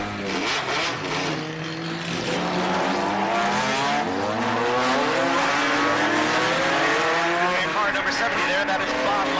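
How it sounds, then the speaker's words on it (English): A mostly stock C5 Z06 Corvette lapping a race track, its engine note rising and falling steadily and loudly through the shifts, with a commentator talking over it. "That is Bob Meyer out there in his C5 Z06 Corvette that looks mostly stock."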